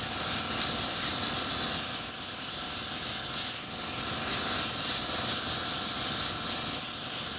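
An airbrush sprays phthalo blue paint across a shirt in one continuous, even hiss that holds steady and fairly close throughout.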